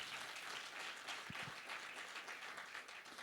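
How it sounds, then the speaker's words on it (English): Audience applause at a community NGO workshop, a dense, steady wash of many hands clapping together, fairly faint and distant, running evenly through the whole stretch. "a big hand of applause, Marlies and Viri and your team"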